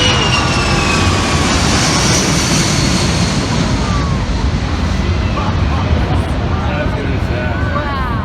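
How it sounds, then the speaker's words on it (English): A large Hercules-type propeller aircraft flies past over a river during a fireworks event, its heavy engine roar loud and continuous throughout, with voices talking over it. "Big, massive, Herculesy type looking thing fly right past us."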